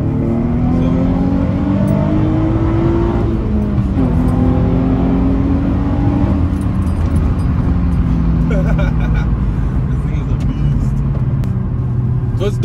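A car's naturally aspirated VQ35DE engine revs loudly and steadily, its pitch rising and falling, with people talking over it throughout.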